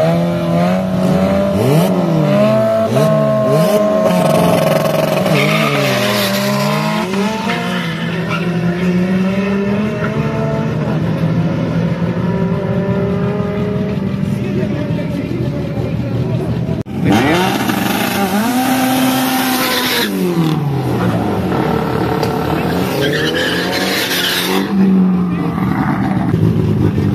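Drag race cars doing burnouts at the Quilpué autodrome, engines revving hard in rising and falling sweeps with tire squeal, loud and close throughout, with a second burnout surge after a brief lull.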